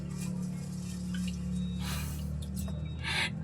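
Rice is stirred in water while being washed, giving soft wet swishes and sloshing splashes in a few uneven bursts, close and quiet over a low steady hum, with no voice.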